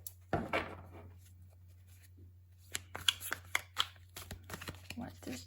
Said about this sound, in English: let's clarify with a couple tarot cards